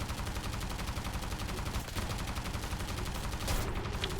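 Video game gunfire, fast and sustained, pours out at close range for the whole stretch as dense, overlapping shots with no pause, swelling slightly near the end.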